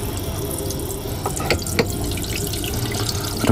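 Water runs steadily from a sink tap with good pressure inside a sleeper train cabin on the Caledonian Sleeper, a close, continuous splashing stream with a couple of brief knocks partway through.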